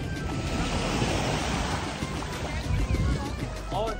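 Sea waves wash steadily onto a Barcelona beach, a continuous broadband surf roar with some wind buffeting the microphone and faint voices of people nearby.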